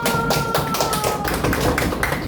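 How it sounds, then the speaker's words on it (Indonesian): A classroom of pupils claps together for a teacher, a close, loud run of sharp, evenly spaced hand claps with a brief pause partway through. "Tepuk tangan dulu."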